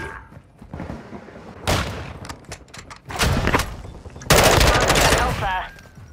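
Rapid automatic gunfire and single shots in a Call of Duty match, arriving in loud bursts with short pauses, the heaviest volley near the end, mixed with game effects and faint voices.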